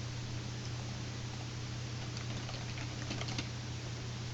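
Typing on a computer keyboard, a steady stream of soft quick key clicks under a constant low electrical hum, faint and close, with no voices.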